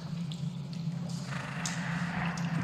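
Creature in The Mimic horror video game purring low and steady, a continuous rumbling drone with faint scattered clicks, no voices.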